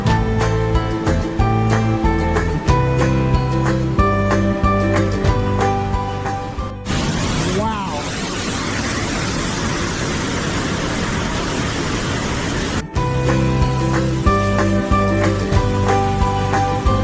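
Swollen river at full capacity tearing past near Shifen Waterfall in Taiwan, a loud dense roar of rushing water that swells up in the middle, with music playing before and after.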